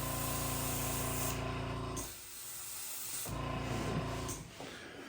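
An airbrush spraying pearl silver paint over the body of a shad fishing lure, a close continuous hiss in two bursts broken by a short pause, with a hum running beneath.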